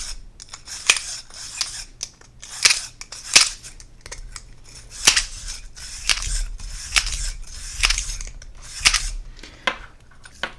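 A cleaning rod is pushed and pulled through the barrel of a Bersa Thunder .45 pistol, making a series of sharp metallic scrapes and clicks that repeat at an uneven pace, close to the microphone.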